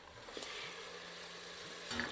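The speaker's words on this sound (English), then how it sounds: "now you keep frying the masala on a high flame and stirring occasionally for at least 5 minutes" Masala of spices and tomato pulp sizzles steadily in a pan over high heat, with soft scrapes of a spoon stirring through it now and then; close, continuous frying sound with no voices.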